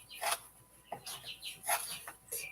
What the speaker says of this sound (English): You can hear the chicks in the background.